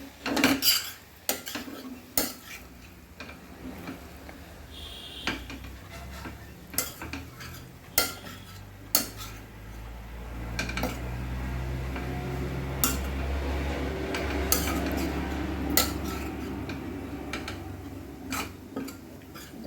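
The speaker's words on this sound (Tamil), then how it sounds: "மெதுவாகவே எல்லாத்தையும் பரட்டிட்டு எல்லா பரோட்டாலையும் இந்த மசாலா எல்லாம் ஒன்று சேர்கிற மாதிரி ட்ரெஸ் போட்டுக்கணும்." Kothu parotta being tossed and mixed with masala in a metal pan: repeated sharp clinks and scrapes of utensils against the pan, irregular and close, over a low steady rumble, with no talking.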